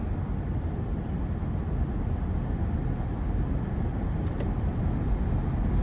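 A 2017 Toyota Land Cruiser with an 8-speed automatic accelerates out of a corner, heard from inside as a steady low engine and road rumble, with a few light clicks near the end and no talking.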